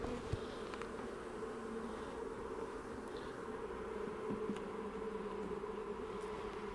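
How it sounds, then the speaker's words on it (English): Honeybees in a nuc hive hum in a continuous, even drone, soft and close, without pauses or voices. "I'm going to go get another frame of bees and I'm going to shake in here"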